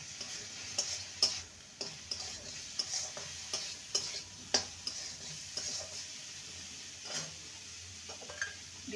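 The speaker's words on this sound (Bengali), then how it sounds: "ভালো করে কষিয়ে নেব।" Cauliflower mixture with chopped green chillies and chilli powder sizzles softly in a pan while a spatula scrapes and taps against the metal in a steady, repeated stirring rhythm.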